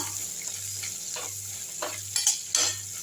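Onions sautéing in a pan for beetroot chutney: a soft, continuous sizzle broken by several louder scraping stirs of a spoon, close by over a faint low hum, with no talking.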